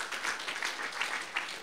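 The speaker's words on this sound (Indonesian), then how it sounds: "Anda boleh beri tepuk tangan untuk kebenaran ini." A church congregation claps at a Sunday service, a steady wash of many hands with a few louder bursts, continuous and fairly quiet throughout.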